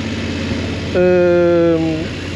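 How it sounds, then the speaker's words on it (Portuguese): A 2022 BMW F 850 GS Adventure motorcycle engine under steady background road rumble gives a firm, buzzing rise in revs lasting about a second before easing back. "gosto do barulho que a moto faz quando vamos a puxar"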